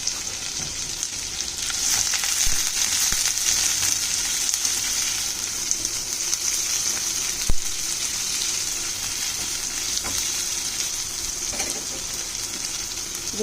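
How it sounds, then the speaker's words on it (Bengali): Fennel seeds and chopped onion frying in oil in a pan for an egg bhuna, a steady close sizzle throughout with a single sharp knock partway through, no talking. "মৌরিটা হালকা করে একটু ফ্রাই করে নেব, তারপর পেঁয়াজ কুচিটা দিয়ে দিচ্ছি"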